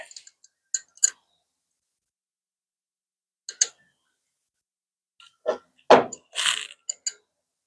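Sharp metallic clicks and ratcheting from a wrench being worked on a 1974 Nova, a few isolated ticks early on, then a denser burst of clanks and scrapes near the end, close and fairly loud with no talking.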